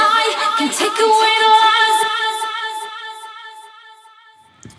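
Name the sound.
vocal with Echo Boy quarter note delay effect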